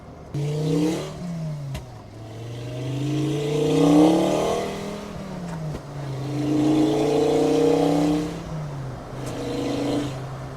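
A five-cylinder engine in a Mk2 GTI revs up twice, rising and falling with a rough, buzzy note close by. A brief lull separates the two climbs, and each one drops back to idle.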